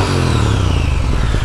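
A Triumph motorcycle engine runs with a deep, throaty exhaust note, a loud, steady, close rumble with no talk.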